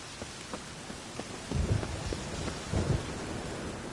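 A rainy thunderstorm in The Witcher 3 on PS4 hisses steadily with scattered raindrop ticks, while two low rumbles of thunder roll in partway through.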